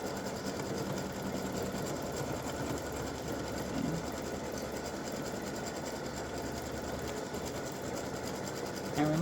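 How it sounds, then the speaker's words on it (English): An embroidery machine stitches a placement stitch for fabric or vinyl applique material, giving a steady close mechanical whir with a fast rhythmic needle chatter that runs unbroken. "the first color stop is going to stitch a placement stitch for your applique material, whether it's fabric or vinyl"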